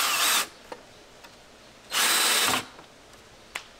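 A power drill drives screws to fix a Milescraft Hinge Mate template to the edge of a slab door, two short whirring bursts separated by a pause, with faint clicks between.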